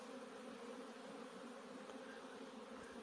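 Honey bees on a cleansing flight in mid-winter, a steady, dense buzzing hum from many insects flying around the hive, continuous and moderately near with no speech.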